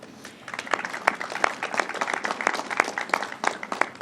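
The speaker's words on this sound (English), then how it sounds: "Let's give him a round of applause." Sustained audience applause at a New York governor's announcement on the fentanyl crisis, dense clapping that swells and holds steady for several seconds with no talking over it.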